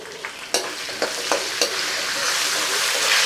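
Curry leaves crisping in hot oil for a Kolhapuri bhadang puffed-rice snack: a rising bright sizzle with several sharp crackles and stirring scrapes near the start, building into a louder continuous fry.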